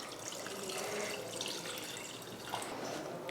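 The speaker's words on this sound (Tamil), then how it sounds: "இப்போ தண்ணி சேர்த்துக்கலாம்." Water pouring steadily into a pot of mutton dalcha with turmeric and ginger-garlic paste, a continuous close splashing rush with no talk.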